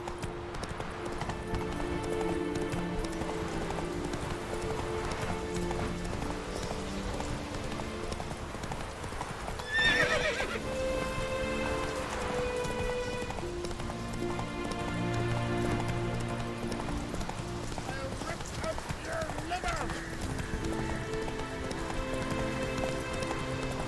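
The horse Roach gallops in The Witcher 3: Wild Hunt, its rapid, continuous hoofbeats drumming steadily under ambient game music, with a short neigh or jostle around the middle.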